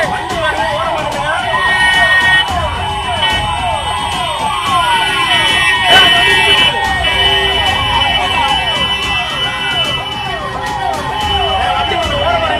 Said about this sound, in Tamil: எமர்ஜென்சி வண்டி வருது, கொஞ்சம் ஓரமா நின்னுக்கோங்க